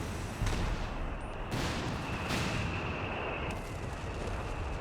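An artillery barrage rumbles in the strategy game Company of Heroes 3, with continuous heavy booming and gunfire forming a dense, loud roar and a few sharper blasts standing out.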